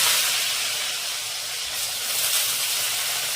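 Hot oil hisses steadily as raw potatoes go into a plain tempering (vaghar) made without mustard seeds, a loud, continuous broadband sizzle close by with no talking.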